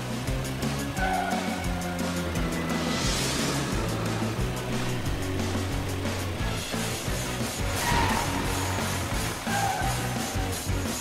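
A car races along at speed with a steady, loud engine drone and rushing road noise, intensifying in a couple of passing surges, with no talking.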